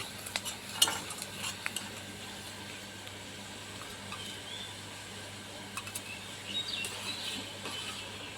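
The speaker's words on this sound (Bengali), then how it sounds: "ভালোভাবে নেড়ে চেড়ে ডালটাকে এখন দিয়ে দেব" A spoon stirs mung dal in a pot, giving a few soft clinks and scrapes over a faint low sizzle, quiet and intermittent.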